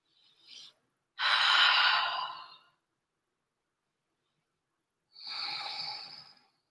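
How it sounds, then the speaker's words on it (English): Deep belly breathing during a yoga flow, a short sniff followed by a long airy inhale and, after a silent pause, a long slow exhale, close and alone. "Breathe into the belly."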